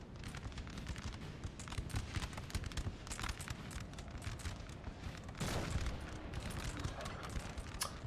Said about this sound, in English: Highland Foot gonna get blasted in the flank by artillery.